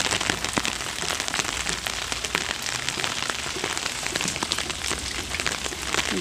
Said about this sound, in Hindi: आज बहुत अच्छी बारिश हो रही है यहाँ पे।